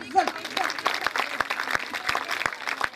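An audience at a school's annual ceremony breaks into applause, a continuous crowd clapping with a few sharper individual claps standing out, while a brief voice is heard near the start.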